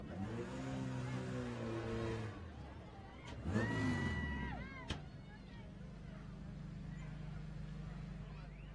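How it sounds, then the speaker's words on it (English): A beefy Class 10 off-road race car at the SCORE San Felipe 250 desert race roars nearby with a buzzing engine drone, a rising whine as it passes, then a steady distant hum. "Another beefy Class 10 car coming up here at 1088."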